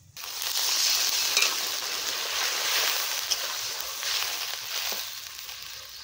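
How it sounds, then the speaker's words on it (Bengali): Water poured into a pan of sizzling spices for a small-fish and kochur loti curry, giving a steady loud hiss and crackle that swells and dips over about six seconds, with no talk. "এখন 1 বাটির মতো জল দিয়ে দিচ্ছি।"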